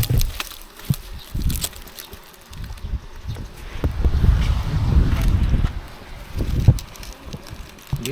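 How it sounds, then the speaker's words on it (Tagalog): Strong wind at a beach resort in the Philippines buffets the microphone in uneven rumbling bursts. It swells into a sustained loud roar midway, then eases back to scattered gusts. "very malakas ang hangin."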